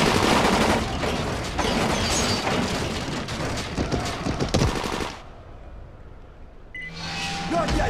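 Dense bursts of rapid machine-gun fire ring out in Dying Light, loud and close, rattling continuously for several seconds, breaking off briefly, then resuming with another burst.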